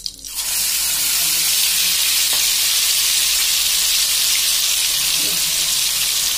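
Onion paste hits hot oil with a sharp burst, then settles into a loud, even hiss and sizzle that carries on without a break, close to the pan.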